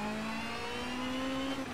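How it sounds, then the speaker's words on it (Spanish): Sustained engine drone from a car in the racing video game Need for Speed Shift 2, holding a steady high pitch with slight revving swells, loud and continuous throughout with no talk. "Hoy solo el precioso motor. Es que es una maravilla."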